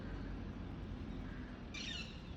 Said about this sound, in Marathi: हे बघा पक्ष्याचा आवाज बघा मित्र.